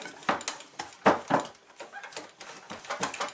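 Bread dough is worked by hand in a bowl, a series of soft, irregular slapping and squelching thumps with faint clatter, close by and unaccompanied by speech.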